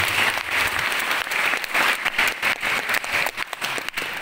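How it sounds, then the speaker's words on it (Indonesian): Audience at a school gathering on Belitung island claps for the children of a youth religious community, with dense, steady applause filling the room for a few seconds and no talk over it. "Tepuk tangan buat anak-anak ini."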